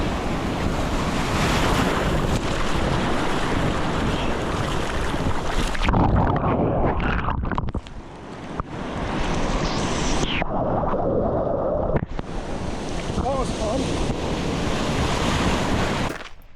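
Ocean surf crashes and rolls continuously while wind buffets a waterproof action camera held in the waves, with loud, close, broadband roar and a brief muffled drop as the camera goes under or gets knocked over.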